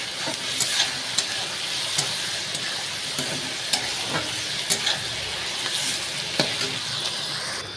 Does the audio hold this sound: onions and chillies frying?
yes